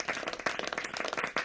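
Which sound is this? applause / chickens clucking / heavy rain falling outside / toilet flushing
applause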